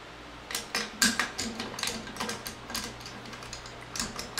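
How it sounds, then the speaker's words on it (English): AR-15 charging handle sliding into an upper receiver, heard as a string of close metallic clicks and scrapes with an uneven rhythm and one sharper click near the start, no voices. "So we're going to place the charging handle back in there."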